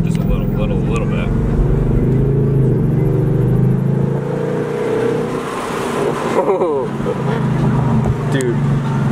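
A 2018 Ford Mustang GT V8 with a 10-speed gearbox driven at full throttle, a loud, close, continuous engine rumble and roar from inside the car, with people talking over it.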